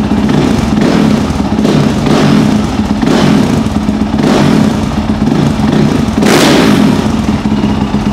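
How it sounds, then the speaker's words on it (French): A Honda engine running loudly after being started without choke, a steady close rumble with slight rises and falls in revs throughout, no talking. "si elle démarre du premier coup sans starter, elle part."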